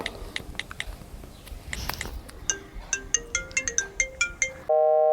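Rapid series of bright electronic beeps and chimes like a phone ringtone melody, ending in a sustained tonal burst; no voices.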